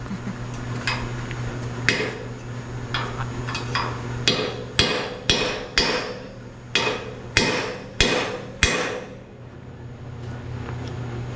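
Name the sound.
big French hammer striking metal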